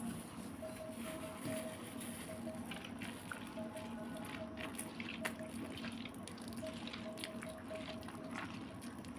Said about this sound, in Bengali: এবার আমি দেখো ছেঁকে নিচ্ছি।